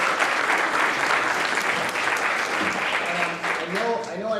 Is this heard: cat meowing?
no